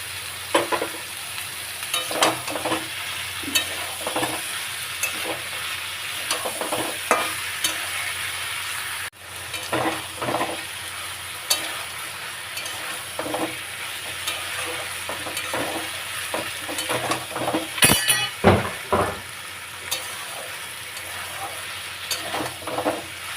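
Spiced potatoes, prawns, eggplant and long beans stir-fried in a pan, with a continuous hissing sizzle and repeated scraping spatula strokes at an irregular rhythm throughout.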